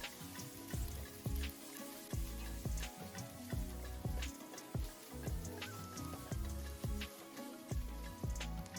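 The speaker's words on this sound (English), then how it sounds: "Add the chopped onions and sauté for another 2 to 3 minutes until the onions are translucent." Chopped onions sizzle in hot vegetable or canola oil in a pan for a Lebanese white bean stew, a dense continuous crackle with repeated louder spits and pops and the clatter of stirring.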